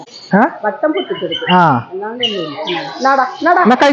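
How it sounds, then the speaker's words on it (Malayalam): A macaw gives loud, harsh, rising and falling squawks close by, in rapid bursts over several seconds, with voices chatting nearby. "അത് മക്കാവു ആണേ. മക്കാവ് പക്ഷിയാണ്."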